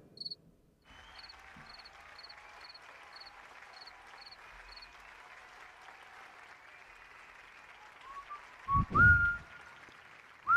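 Steady cricket chirping in a room: a rhythmic high-pitched pulse repeating about every quarter second for several seconds, then a continuous trill underneath, fairly faint, ending with a few louder low thumps and handling noises.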